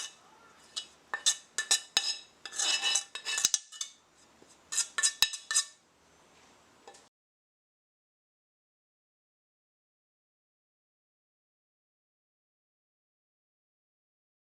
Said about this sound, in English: I'm going to dump all the saltfish in here.